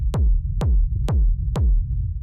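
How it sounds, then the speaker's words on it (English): Four heavy techno kick drums, fattened by a Saturator effect, thump at a steady even pulse, each with a sharp attack and a booming tail that drops in pitch. "So you can hear what's happening here is the Saturator is really fattening the kick up."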